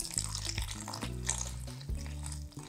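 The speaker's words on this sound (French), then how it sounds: "Donc je verse de l'eau," Water poured into a fishing groundbait mix, a steady close pour with low tonal resonance underneath, fairly even throughout and no talking over it.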